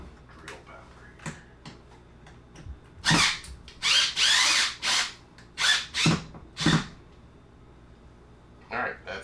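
A power drill drives screws while an A/C unit is added to a Rogue Armor 5th wheel, with several short bursts of whirring spaced a second or so apart, close and loud, mixed with clicks and handling noise.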